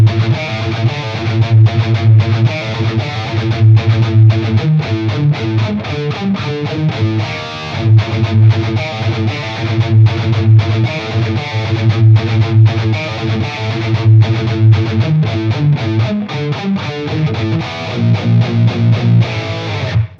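Distorted electric guitar plays an A riff. The loud, driving palm-muted chugs and chords keep looping back into themselves without a break.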